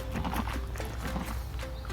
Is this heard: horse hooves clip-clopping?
yes